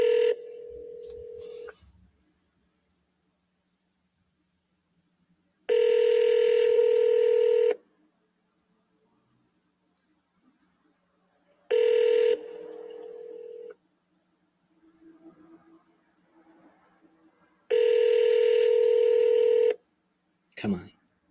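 Telephone keypad tones sound while a call is being dialed: four loud, sustained tone bursts separated by silences, with faint voice-like sounds between the later ones.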